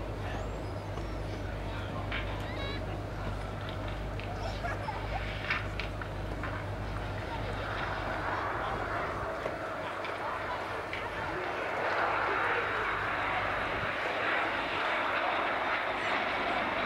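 Aircraft engines droning as a silver BAC Canberra passes at an air display, a steady loud roar that swells toward the end, with a commentator's voice talking over it.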